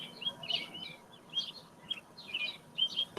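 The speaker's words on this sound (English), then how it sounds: "The birds chirping and singing and stuff." Several birds chirp and sing outdoors in short bursts of bright, high tweets, spaced across the moment against a quiet background, with no talking.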